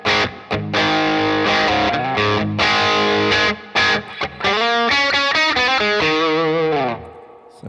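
Distorted electric guitar played through a Bad Cat Black Cat combo amplifier, loud chords and sustained notes with short gaps, ending in a run of bending, vibrato-laden lead notes that fade out.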